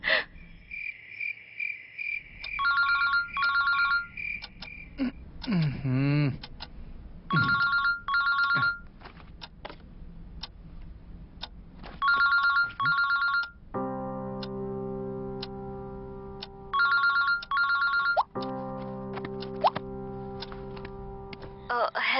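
A telephone rings late at night with a repeating electronic ringtone in bursts, loud and close, alternating with a sustained melodic tone passage.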